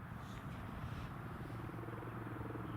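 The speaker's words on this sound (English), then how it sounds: "You can hear a helicopter moving." A faint, distant helicopter at Newcastle International Airport drones steadily with a low rotor rumble, continuous and unchanging throughout.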